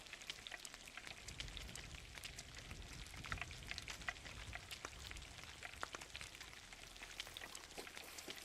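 Rain falls in the Sea of Thieves video game as a faint, steady hiss dotted with scattered droplet ticks, continuing evenly throughout with no voices.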